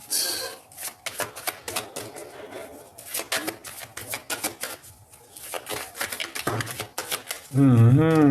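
A tarot deck being shuffled and cut, heard as a run of quick, crisp card riffles and taps in close succession, mixed with speech throughout and a brief burst of louder voice at the end.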